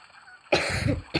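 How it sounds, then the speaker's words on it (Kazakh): A person coughs once up close, a short harsh burst following a quiet stretch, with a second brief cough starting just at the end. "мен жөтел тиіп қалып"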